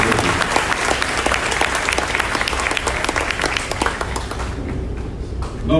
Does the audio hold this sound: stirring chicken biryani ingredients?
no